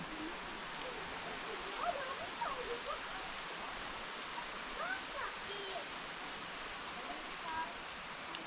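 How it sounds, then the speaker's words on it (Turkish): Rain falls steadily outdoors in Ula on a summer day, a constant close hiss with faint chirps scattered through it. "şu anda Ulay'a çok güzel yağmur yağıyor"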